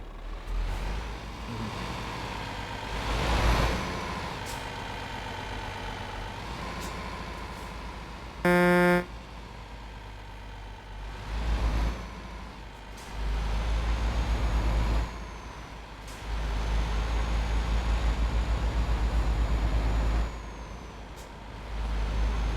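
Truck in Euro Truck Simulator 2 hauling a fragile trailer: a steady engine drone that swells and drops with throttle, broken by hissing air-brake bursts and one short loud buzzer tone midway.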